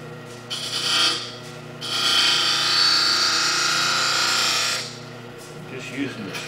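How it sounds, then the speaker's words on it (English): A screw held as a scraper against a spinning wood-turned finial on a lathe makes a hissing scrape, first in short touches, then one long steady pass, over the lathe's hum. "Just using the screw as a scrape."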